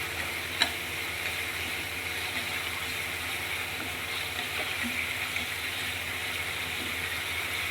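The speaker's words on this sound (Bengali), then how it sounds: "এবার আমি আলুগুলো মিশিয়ে নেব" Potatoes stirred into a frying masala for a palak aloo dish, a steady sizzle with soft scraping strokes and one sharp knock near the start, no talking.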